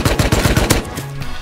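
Rapid gunfire in the video game Rust, a close, loud burst of about six evenly spaced shots that stops abruptly.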